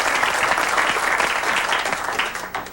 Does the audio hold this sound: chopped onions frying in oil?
no